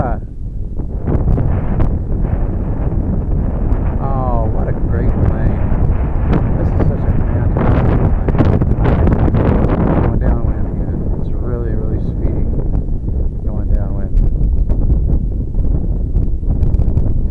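Strong outdoor wind of about ten miles an hour buffets the microphone in heavy, continuous low rumbling gusts, loud and close, while someone talks over it.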